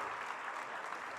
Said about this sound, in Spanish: Nosotros lo despedimos con un fuerte aplauso